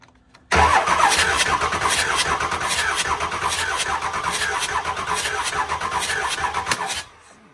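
A Ford 7.3 Powerstroke diesel cranks on the starter during a compression test, with a loud, rapid, rhythmic chugging that starts abruptly, holds steady for about six seconds and then stops.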